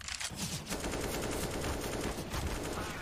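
Gunfire from Counter-Strike: Global Offensive in a NaVi vs FURIA match at IEM Katowice, with rapid bursts of rifle shots crackling densely over a constant, faint mix of game noise.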